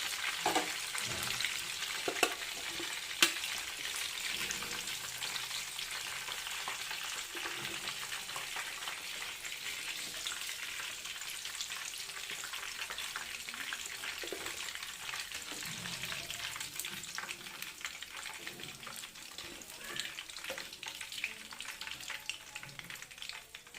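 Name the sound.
chicken lollipops frying in oil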